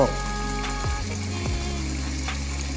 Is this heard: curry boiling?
yes